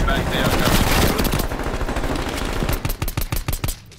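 Rapid bursts of gunfire in Call of Duty: Black Ops Cold War, dense and continuous at first, then breaking into sharp separate shots toward the end, loud and close.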